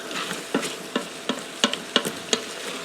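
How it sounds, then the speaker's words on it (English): Peppers, onions and celery are stirred in an Instant Pot, a spoon scraping and clicking against the pot in irregular strokes over a soft, steady sizzle, close and fairly quiet with no talking. "We're going to stir for about 1 minute so that we can soften up the peppers and the onions and the celery."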